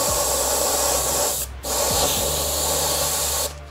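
An airbrush sprays paint onto a black surface in a loud, close, continuous hiss, broken by two brief pauses between bursts.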